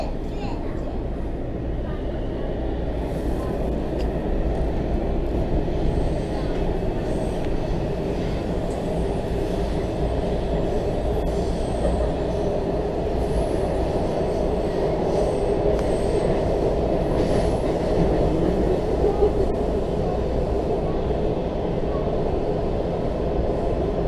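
A WMATA Breda metro train on Washington's Red Line rumbles steadily past at close range, a continuous heavy roll of wheels with faint high squeals, while a person speaks over it.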